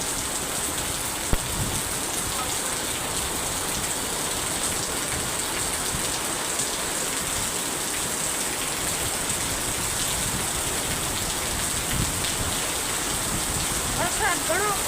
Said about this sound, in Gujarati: જો વરસાદ કેવો પડે છે આપણા કચ્છમાં